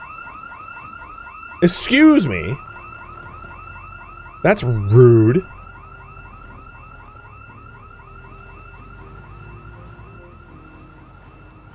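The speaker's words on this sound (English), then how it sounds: "There's the car alarm that somehow I didn't set off, but it was off or something, and now there's the tornado shelter alarm." A rapidly warbling electronic alarm in the Project Zomboid video game, a car alarm and then a tornado shelter alarm, keeps cycling steadily throughout while someone speaks twice over it.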